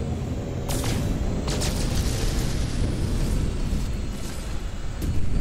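Mining laser fire on a black asteroid in No Man's Sky, a steady dense roaring blast with rumbling low bursts and a few sharper pops, loud and continuous throughout with no talk.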